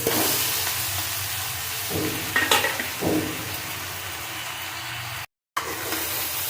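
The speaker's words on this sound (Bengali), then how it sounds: "নাড়তে থাকবো একটু সব কিছু মিশিয়ে দেবো" Boiled chowmein gets tossed and stirred in a pan of vegetables, a steady loud sizzle with a few scraping and clattering strokes, briefly cut off before resuming.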